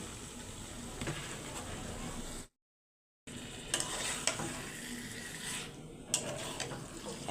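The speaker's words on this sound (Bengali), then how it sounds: "এখন শুধু এভাবে কষাবো ভালো করে বুড়িটা" Bori lentil dumplings with spices frying in a pan as they are stirred, a steady close sizzle with scraping strokes, cut by a sudden silent gap of under a second before the frying and stirring resume.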